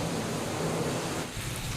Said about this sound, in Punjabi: ਬਾਹਰ ਨਾ ਮੀਂਹ ਬਹੁਤ ਜ਼ੋਰ 'ਚ ਪੈ ਰਿਹਾ ਸਗੋਂ ਹੋਰ ਵੀ ਪਹਿਲਾਂ ਨਾਲੋਂ ਤੇਜ਼ ਹੋ ਗਿਆ